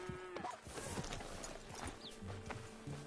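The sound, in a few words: horse hooves in Red Dead Redemption video game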